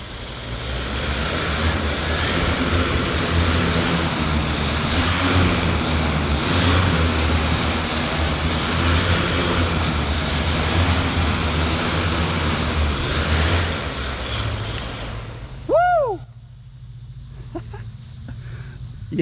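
Propellers on a homemade eVTOL flying car roar under throttle, a loud, dense whirring drone that holds steady for about fifteen seconds, then cuts off abruptly with a brief whine as the rotors spin down.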